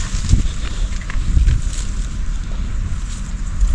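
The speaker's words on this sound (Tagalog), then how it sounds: "Malakas ang buga ng ating ano yan, patubig o yung solar." Water from a solar-powered irrigation pump gushes and sprays forcefully outdoors on a calamansi farm, a steady loud rushing wash with wind buffeting the microphone throughout.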